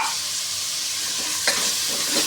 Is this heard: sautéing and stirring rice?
yes